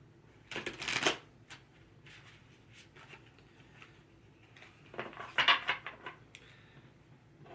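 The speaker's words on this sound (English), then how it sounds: "one more shuffle here" Tarot cards are riffled in two quick, crisp bursts, one near the start and another a few seconds later, with soft handling rustles and light taps between them, close and fairly quiet.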